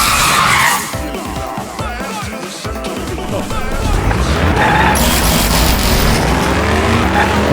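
Driving and skidding in the Danganronpa V3: Killing Harmony video game, loud and continuous engine roar with tire skids and a possible crash, running for the whole stretch.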